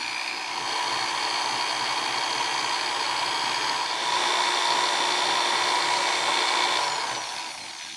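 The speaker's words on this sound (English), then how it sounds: "We're going to just have this drill going for 2 minutes." A handheld electric drill whirs steadily for several seconds, standing in for a vehicle transmission while a programmable speedometer calibrates, a constant high-pitched motor whine with a slight lift near the end before it winds down.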